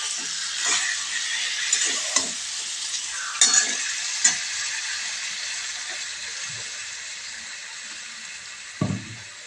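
Spices with sugar and ground tomato paste stir-fried in a pan for aloo dum, a steady close hiss of frying broken by scraping stirs and a few knocks, ending with a low thump.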